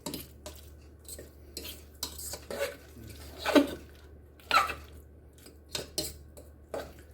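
A whisk beats through mashed potatoes in a home kitchen, with irregular clinks and scrapes of metal against the bowl, some sharp taps as lumps are knocked off the whisk, all close and fairly quiet with no talking.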